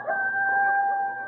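A rooster crows once in a steady, drawn-out call, loud and close, lasting just over a second with no talking.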